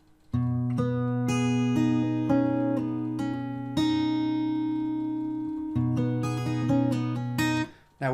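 An acoustic guitar plays part of a song arrangement slowly: a handful of plucked notes and hammer-ons ring out one after another with long sustain, close and clear with no talking.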